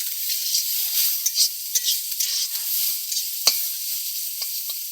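Banana flower is stir-fried with a little sugar in a pan, giving a soft, steady sizzle broken by scraping stirs and occasional sharp spatula taps, with no talk.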